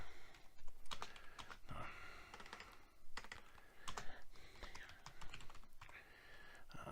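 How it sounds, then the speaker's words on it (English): Rapid, uneven clicking of keys on a computer keyboard, close up, in quick bursts with brief pauses and no speech. "Oh, my typing skills are terrible today."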